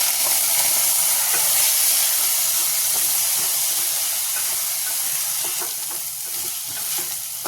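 Food sautéing in hot ghee hisses and sizzles loudly and steadily up close, with occasional faint stirring taps, no talking.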